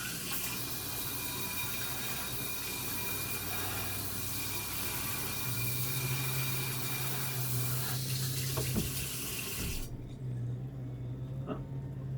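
Water drains steadily from a pot of cooked Indomie instant noodles, pouring loudly and continuously into a sink before cutting off abruptly near the end.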